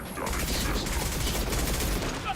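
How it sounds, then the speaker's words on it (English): A high impact gunshot from the Mass Effect 2 video game, a loud, dense burst of rapid firing with a heavy low thump that fills the whole short stretch. "Firing a high impact shot"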